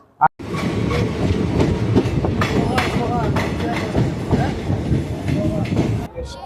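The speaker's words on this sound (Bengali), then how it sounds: "আমাদের ট্রেন 13142 তিস্তা তোরসা এক্সপ্রেস তার 15 নম্বর হল্ট মালদা টাউন স্টেশনে এসে পৌঁছালো" The 13142 Teesta Torsha Express, running from New Alipurduar to Sealdah and nearing Malda Town, makes a loud, steady rumble with clattering wheel noise, heard from inside the train after a brief quiet start until it cuts off near the end.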